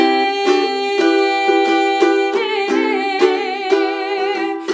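A ukulele strums the chorus chords of a song in a steady rhythm, bright repeated strokes close up, with no voices.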